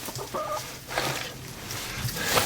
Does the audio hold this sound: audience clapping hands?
no